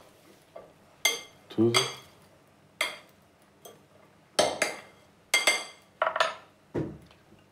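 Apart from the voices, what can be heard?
mixing black-eyed bean salad with feta and cucumber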